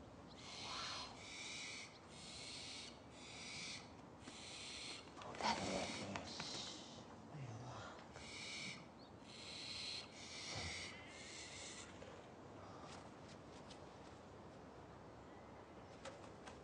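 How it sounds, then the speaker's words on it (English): Owls calling inside a farm barn where fledglings roost, a run of repeated breathy, wheezing screeches in quick bursts, fairly close and clear, followed by fainter calls and rustling. "there's owls in here"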